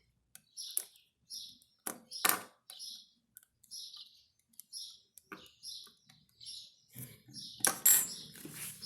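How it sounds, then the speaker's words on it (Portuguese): A small bottle of glue dropping onto a sewing table while a zipper foot is fitted to a sewing machine, heard as a few sharp light clicks and clatters scattered among other faint taps, close and fairly quiet. "Caiu minha cola."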